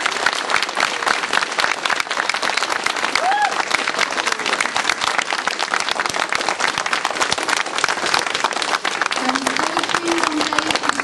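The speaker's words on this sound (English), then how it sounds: "Can we please give our guests a round of applause?" Audience applause for guests at a Red Dwarf Q&A session, loud sustained clapping filling the room from start to finish with a few faint voices mixed in.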